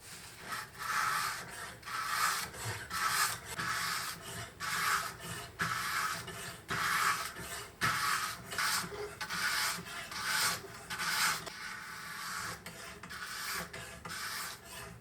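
A knife blade is drawn across a sharpening stone in a clamp, repeated rhythmic rasping strokes about once or twice a second, close and moderately loud, with no talk over them.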